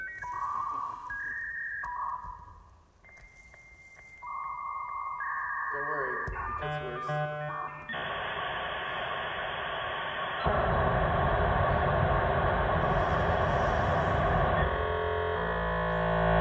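A 1995-era dial-up modem connecting: a run of shifting electronic tones and beeps gives way to loud, dense hissing static and screeching data noise, with a voice speaking briefly over it.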